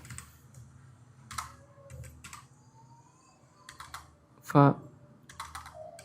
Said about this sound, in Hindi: जैसे हम टाइप कर देते हैं